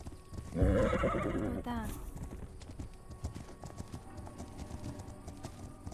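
A horse in a video game whinnies loudly up close, then hooves clip-clop steadily beneath game ambience, with a brief spoken word near the start.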